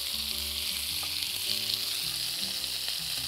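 Potatoes for a garlic and parsley potato salad frying in a pan, a dense steady sizzle with light crackling, close and continuous, alone without voices, while a low tonal hum sits underneath.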